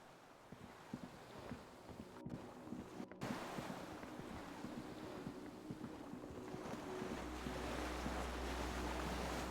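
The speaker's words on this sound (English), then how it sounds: "The skiff is swaying on the waves by the dock." Waves lapping against a dock where a skiff sways, from the video game Disco Elysium; a steady wash of surf and wind with no voices, rising slightly toward the end as a low rumble sets in.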